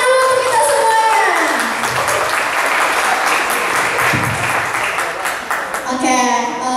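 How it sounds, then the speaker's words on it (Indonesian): An audience gives loud, sustained applause at a church youth opening service in Palembang, a dense wall of clapping that runs throughout while an amplified voice talks over the start and end. "tepuk tangan dulu untuk kita semuanya"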